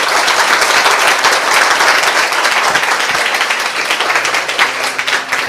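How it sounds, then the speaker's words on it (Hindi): An audience at a church sermon claps steadily, producing a loud, dense wash of applause that holds for several seconds and tapers slightly near the end. "आइए उस बीज के लिए ताली बजाएं।"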